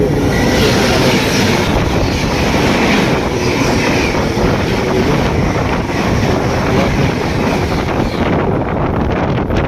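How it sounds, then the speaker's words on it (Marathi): A passenger train rumbles past at close range, a loud, continuous roar mixed with heavy wind buffeting the microphone. The noise stays steady for the whole stretch and eases slightly near the end. "समोर आता ट्रेन दाखवतो तुम्हाला कशी येते बघा."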